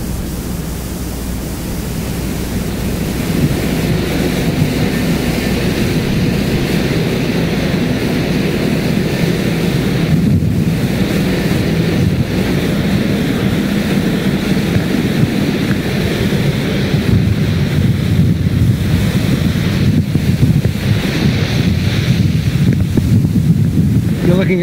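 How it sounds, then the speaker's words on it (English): Rough seas in the Drake Passage heard from a ship's wheelhouse, a loud continuous roar of wind and crashing water with heavy buffeting, steady throughout. "Looking at a very angry sea right now."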